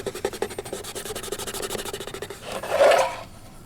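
Transfer tape is rubbed firmly onto a part of a Williams pinball machine, a steady rapid back-and-forth rasping, close and fairly loud, swelling into a longer stronger stroke near the end.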